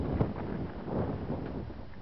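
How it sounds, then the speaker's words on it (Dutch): Outdoor wind in Senglea, Malta, buffets the microphone with a steady, low, rumbling roar that rises and falls slightly over two seconds, fairly quiet, with no one talking. "De wind waait een beetje."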